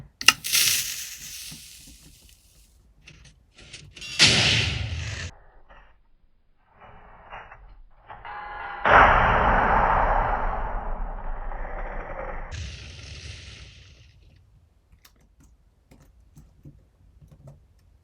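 An anvil cannon fires in the video game Minecraft, with short explosive bursts and a longer crunching blast followed by scattered thuds, separated by quiet gaps.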